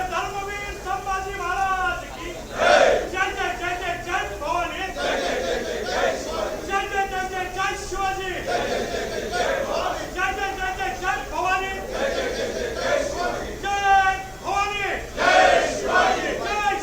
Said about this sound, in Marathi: हे सर्व सत्ताधारी आमदार पायऱ्यांवर घोषणाबाजी देखील करतात